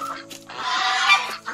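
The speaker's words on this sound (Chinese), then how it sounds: "鹅啊！ 哇，火鸡啊！" Turkeys and geese call at a family gathering, giving a short burst of loud, raspy gobbling and honking with a few brief clucks around it.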